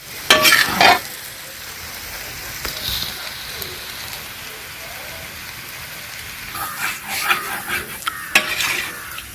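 Beef roast frying in a pan gives a steady sizzle, with bursts of scraping and stirring against the pan near the start and again toward the end.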